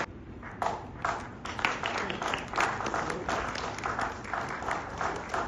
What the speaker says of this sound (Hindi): आपकी तालियां जो है वो गड़गड़ानी चाहिए।